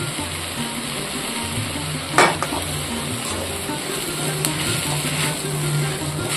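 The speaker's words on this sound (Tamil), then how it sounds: "உப்பு சேர்த்து இந்த மாதிரி வதக்கி விட்டுருவோம்" Moringa leaves being sautéed with salt in a pan, a steady low sizzle with soft scraping stirs and one brief louder clatter near the middle.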